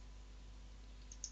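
A computer mouse clicks near the end of a near-silent stretch, a faint pair of small sharp ticks over a low steady hum while working in an Excel spreadsheet.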